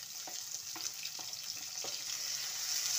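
Onions go into hot oil in a kadhai and fry with a steady soft sizzle, broken by a few faint stirring clicks and taps, close by.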